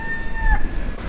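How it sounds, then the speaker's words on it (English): Roosters crow in the distance, a thin drawn-out call over a low rumble of outdoor background noise, early morning on Kooddoo Island in the Maldives. "Let me hear you, roosters."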